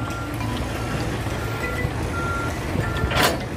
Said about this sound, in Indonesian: So now he will connect his tractor to the trailer.